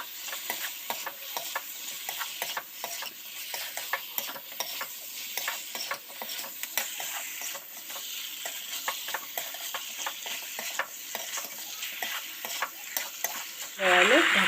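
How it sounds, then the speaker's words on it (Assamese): Chicken meat is stirred in a hot pan, with repeated scraping strokes and clicks over a continuous sizzle, close by with no talking, ending in a louder clatter. "মাংসখিনি দি ভালদৰে লৰাই দিম"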